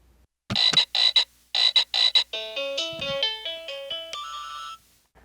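Short bursts of a croaking, frog-like tone from sample playback on a Casio LK-240 keyboard repeat in a quick pattern, then give way to a series of stepped electronic notes, loud and close.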